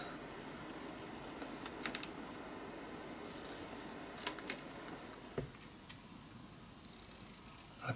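Tim Holtz scissors trim words printed on cardstock, with soft intermittent snips and faint paper rustling, close but quiet, and no talking.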